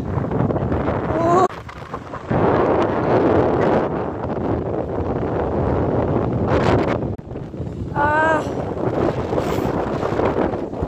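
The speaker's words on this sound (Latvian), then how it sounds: "Te vienkārši nenormāls vējš." Very strong wind at the seashore roars continuously into the microphone, a loud, buffeting rumble with gusty surges and a couple of brief dips.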